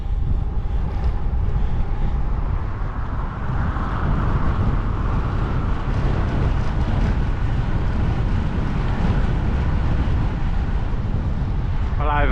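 Steady headwind buffets the microphone of a cyclist riding up Wensleydale in the Yorkshire Dales, a loud continuous low roar with no breaks, and faint talk may sit under it.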